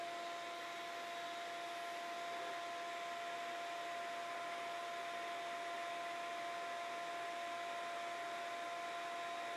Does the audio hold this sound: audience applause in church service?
no